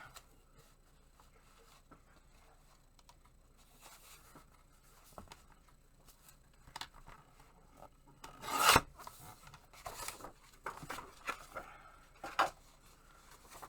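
Scissors or a trimmer cutting a white paper edge while making a junk journal, with soft rasping and rubbing of paper, several brief louder snips near the end, close and quiet.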